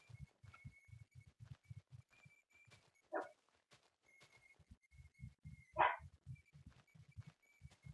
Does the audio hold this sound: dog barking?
yes